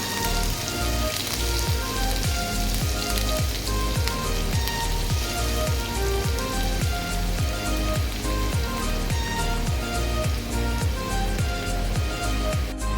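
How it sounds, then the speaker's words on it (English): Chopped ginger and garlic sizzling in hot oil in a pan for chicken chopsuey, a loud, dense, continuous crackling sizzle with rapid popping, close up and without voices. "add chopped ginger and garlic in the hot oil"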